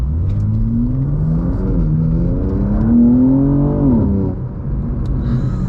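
A 2024 BMW M2 accelerating hard in M1 mode, its engine note climbing through revs with gear shifts, loud and close from inside the cabin, easing off near the end.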